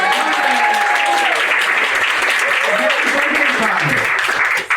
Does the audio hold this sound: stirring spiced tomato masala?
no